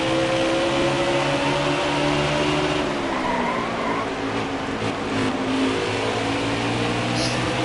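NASCAR stock car engine in the NASCAR Heat 4 racing game on a Food City 500 race, revving loudly and steadily with shifting pitch as it accelerates, continuous and close with no talking.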